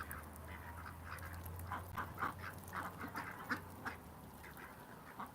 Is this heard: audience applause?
no